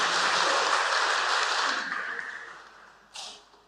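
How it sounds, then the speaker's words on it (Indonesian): A congregation claps at the opening service of a church synod, a full burst of applause fading away, then a brief sharp clap or knock just after it dies out. "Mohon tepuk tangan untuk mereka semua."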